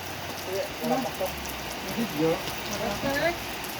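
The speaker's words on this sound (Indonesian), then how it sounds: "hujannya lebat sekali" Heavy rain pours steadily during a fishing trip in a thunderstorm, a dense, constant hiss of drops beneath voices talking over it.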